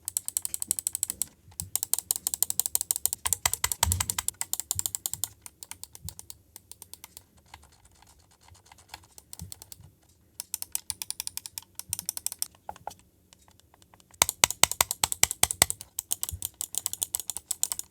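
Rapid crisp clicking from a Dream Machines DM9 Skill mouse scroll wheel, in several quick bursts separated by short quieter pauses, close and fairly loud with no voices.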